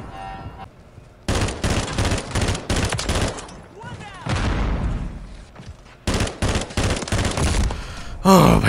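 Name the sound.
gunfire in a video game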